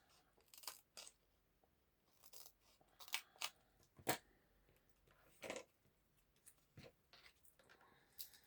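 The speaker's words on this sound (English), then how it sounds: "Let's cut through there." Scissors snipping through card while making a bridge fold card, giving a series of short, crisp cuts spaced irregularly and heard close up against a quiet room.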